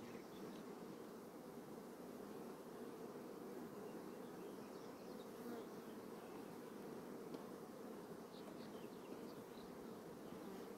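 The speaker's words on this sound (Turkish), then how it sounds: "Arı şu anda gevene de konuyor." Honeybees swarm and buzz around a hive as they forage on milkvetch (geven) flowers, a steady, dense drone that holds at the same level for the whole stretch with no voices.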